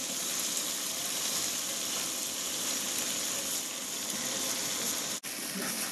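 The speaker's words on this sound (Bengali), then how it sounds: "এই চাউল আর ডাল কষাই।" Rice and lentils being fried in a pan with chicken for bhuna khichuri, giving a steady close hissing sizzle throughout, briefly cut by a short dropout near the end.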